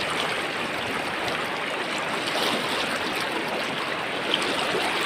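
The strong current of the Isap River in Bongabong, Mindoro rushes in a dense, continuous broadband roar, close and steady without letup, with no talking over it.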